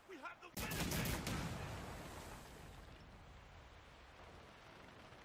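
Sailing warships firing their guns in the naval game Man O'War: Corsair: a sudden rapid volley of booming shots fired together, followed by a long fading rumble that dies away into quiet.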